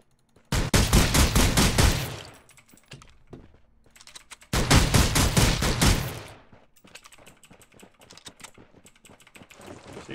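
An AR-15 fires in Rules of Survival, a battle royale game on a snow map: two loud, rapid automatic bursts of about one and a half seconds each, separated by quieter scattered clicks and distant shots.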